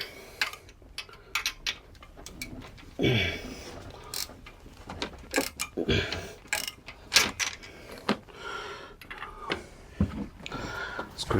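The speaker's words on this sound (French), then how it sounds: "Est-ce que j'arrive maintenant avec le petit cliquet?" A small hand ratchet works on the cylinder head bolts of a Hemi engine, giving irregular bursts of clicking and metallic clatter, close and fairly quiet, with pauses between strokes.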